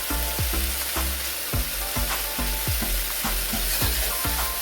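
Leaves and vegetables fry loudly in olive oil in a pan while being stirred, with regular scraping strokes about twice a second over a continuous sizzle, close and with no talking.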